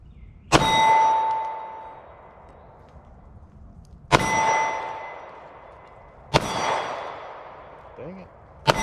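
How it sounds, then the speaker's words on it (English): Three sharp gunshots from a Staccato P pistol, each followed by a bright ringing clang from struck steel targets that decays over a couple of seconds, spaced a few seconds apart with no talking. "So I'm gonna shoot this Staccato."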